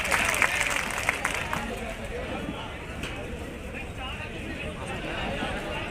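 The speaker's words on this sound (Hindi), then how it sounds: "उनके समर्थन के लिए भी जोरदार तालियां बजाकर समर्थन करें।" A crowd applauds at an outdoor political public meeting in Biaora held by Digvijaya Singh and Sachin Pilot. The clapping is dense, steady and sustained for several seconds, with a few sharper claps near the start.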